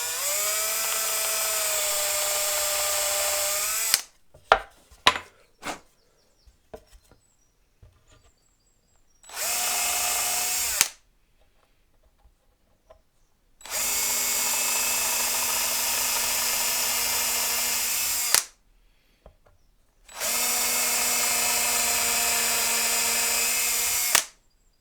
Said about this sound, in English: I'm actually just going to drill these with a hand drill.